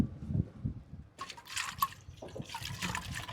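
About 2 grams of fertilizer mixed into 1 liter of water is shaken in a bottle, giving a short low slosh and then louder bursts of splashing liquid. No one speaks.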